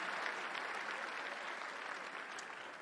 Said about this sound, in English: Ladies and gentlemen, round of applause for Mr. Menno Vandenberg.